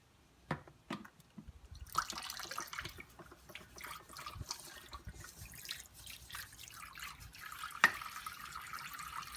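A ladle being rinsed under a running kitchen tap makes faint trickling and splashing water with occasional light clinks and drips, quiet and close, without talk.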